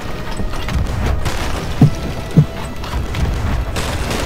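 Ship cannons firing in the Sea of Thieves video game, two distinct booms about half a second apart rising out of a steady din of game noise.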